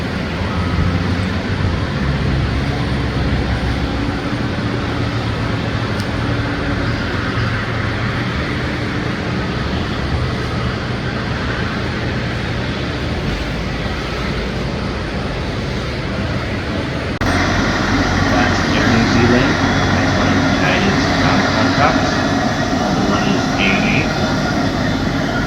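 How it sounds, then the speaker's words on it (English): Large jet aircraft engines roar and whine continuously at an airport, a broad loud rumble that swells a little toward the end, with a voice talking over it. "Big aircraft"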